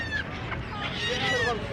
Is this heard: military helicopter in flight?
no